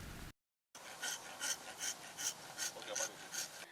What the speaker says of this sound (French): Leur métier, sculpter le bois pour en faire des objets d'art.